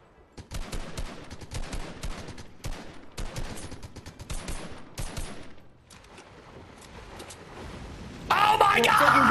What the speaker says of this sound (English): Shoot that guy right there